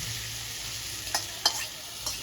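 Vegetables tempered in hot oil sizzle steadily and close, with a few sharp stirring scrapes of a spoon against the pan and no talking.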